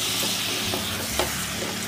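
Half a kilo of chicken dropped into hot masala in a pan for methi chicken, giving a steady, close frying sizzle with faint stirring scrapes throughout.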